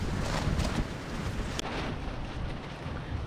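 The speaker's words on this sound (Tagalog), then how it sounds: "Ang lakas talaga ng hangin." Strong wind roars steadily on a cliff top, with a rough, fluttering rumble of a tarp flapping nearby, and one sharp snap partway through.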